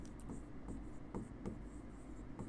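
Marker or chalk writing on a classroom board during a school science lesson, a few short scratchy strokes at a steady pace over low room hum, with no speech.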